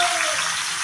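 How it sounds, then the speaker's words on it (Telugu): Tomatoes fry in a pan for a tomato pachadi, giving a short, steady, close sizzle with no voices. "టమాటాలు బాగా వేయించుకోవాలి."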